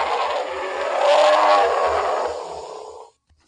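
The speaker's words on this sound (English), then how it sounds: "They use a grizzly bear roar." Recorded grizzly bear roar, a deep, rough, sustained growl that swells in the middle and cuts off abruptly after about three seconds, loud and alone.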